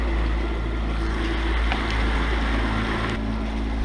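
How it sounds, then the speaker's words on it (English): A Yamaha outboard engine runs on a catamaran, a steady low drone under wind and water noise, continuous and even throughout. "the engine is purring like a sewing machine, a Yamaha sewing machine"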